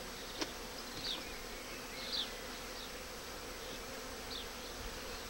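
Honeybees buzz around open hives during a spring inspection, a soft continuous drone with occasional individual bees passing close by, faint and steady with no voices.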